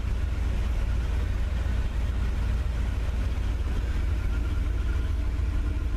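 A 1978 Corvette engine idling at about 800 RPM, a low, steady rumbling drone that holds even and unbroken throughout at a moderate distance.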